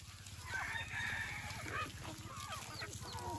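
A rooster crows loudly and close by on a poultry farm keeping grafted country chickens, its long drawn-out call rising over steady low farm noise, with some clucking from other fowl around it.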